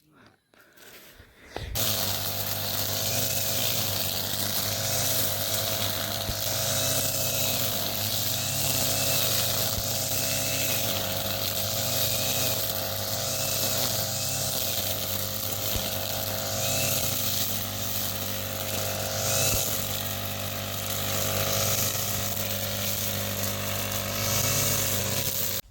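A petrol grass-cutting machine cuts grass, starting after a brief quiet moment and then running as a loud, steady, buzzing engine drone with slight rises and falls in pitch, close by and with no talking.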